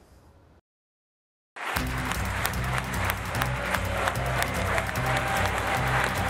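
Applause for Boris Johnson on becoming Conservative Party leader, starting abruptly after a brief silence as a dense crowd claps steadily, with a low rhythmic hum underneath.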